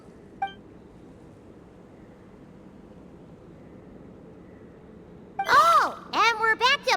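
Beeping electronic machine voice in the video game Genshin Impact, a brief chirp early, then after a low quiet hum a run of warbling, sweeping beeps near the end.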